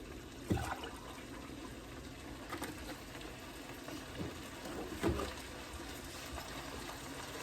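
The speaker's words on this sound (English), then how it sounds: "time to add our milk" Milk trickles slowly into a thickening white sauce for a turkey rice casserole, a faint, quiet pour with a few soft splashes and stirring bumps, heard alone.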